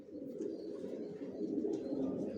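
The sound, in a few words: racer pigeons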